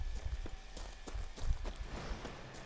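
Horse hooves clip-clopping at a steady trot in The Witcher 3: Blood and Wine, rhythmic soft thuds at moderate distance with faint game ambience beneath.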